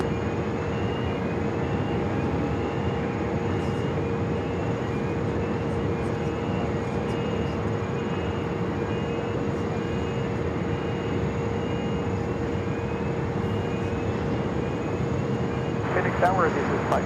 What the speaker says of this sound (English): Southwest 816, runway 7 left, let's take off.